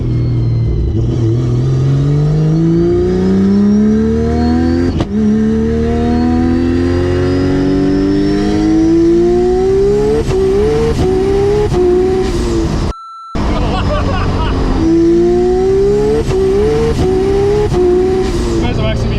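A twin-turbo tuner car, Lamborghini or GT-R, accelerates hard with its exhaust open and all-wheel drive on, the engine note climbing through several gear changes, loud and close, with a brief cut-out near the end.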